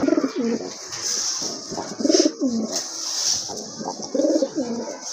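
A pair of pigeons at a pigeon market coos close by in repeated rolling phrases over a hissing background.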